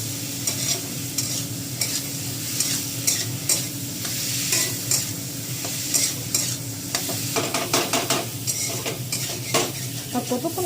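Potatoes and tomato being sautéed in a wok for aloo dum make a constant close sizzle. Repeated scraping and clinking of a spatula against the pan recur throughout, growing busier toward the end.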